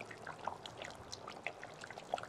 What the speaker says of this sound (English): Then coconut cream goes in.